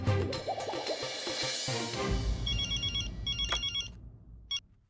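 A telephone rings with repeated electronic trill bursts, fairly clear, following a muffled clatter and background noise, then stops abruptly.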